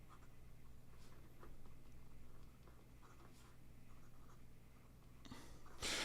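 An Asvine C2000 fountain pen in stabilized wood, with a medium #8 stainless steel nib, scratches softly across paper in faint, close strokes with light pauses, over a low background hum.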